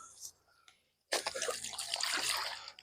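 A small bullhead fish splashes in river water beside the St. Peter's Dynevor Bridge in north Selkirk: after a second of near silence, a sudden close burst of sloshing, splattering water runs steadily to the end.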